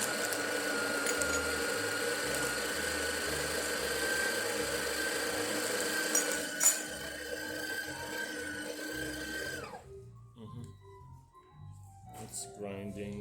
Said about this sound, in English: It's grinding a bit more than it's supposed to.